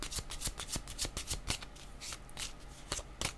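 A deck of tarot cards is shuffled by hand in quick, rapid riffling bursts, soft and close, with no talk.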